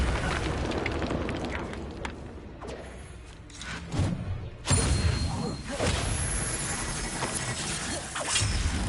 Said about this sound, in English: That was an Incendio